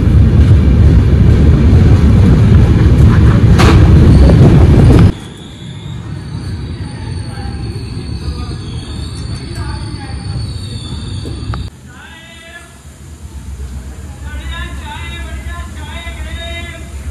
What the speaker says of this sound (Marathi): लोणी जंक्शनहून आपली ट्रेन आता निघाली